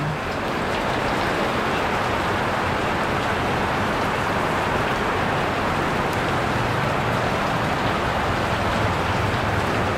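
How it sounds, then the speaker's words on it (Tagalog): Heavy afternoon rain pouring down in a rural provincial setting after a very hot day, a constant, dense hiss of drops on surfaces that stays even and loud throughout, with no voices. "natuloy din yung ulan"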